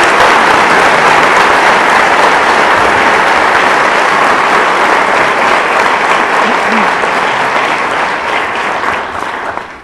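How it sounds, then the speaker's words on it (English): Loud, sustained applause from a concert audience for a school band at a county music festival, a dense steady wash of clapping that holds for nearly ten seconds before starting to thin at the end. "Give them a special round of applause."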